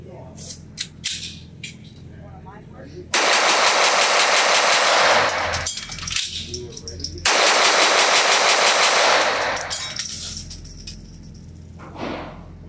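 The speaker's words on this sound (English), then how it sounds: "you can shoot this gun fast" A Sig Sauer P322 .22lr pistol fired rapidly at a range: two long, dense strings of fast, loud, sharp cracks, with a few scattered single shots before and after and some faint talk in between.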